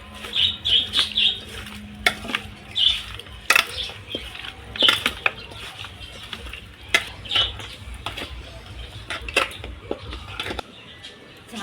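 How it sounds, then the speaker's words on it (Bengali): Chicken biryani marinade is worked together by hand with turmeric and chili powder: irregular wet squishing and kneading with occasional light clinks, while birds chirp faintly in the background. "হাত দিয়ে সব ভালো মতো মাখিয়ে নেব।"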